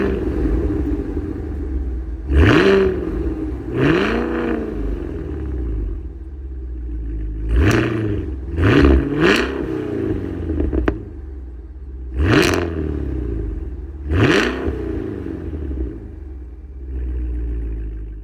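A 682-horsepower Cadillac Escalade-V engine revs hard seven or eight times, each rising blip falling back to a deep rumbling idle, loud and close with no voices.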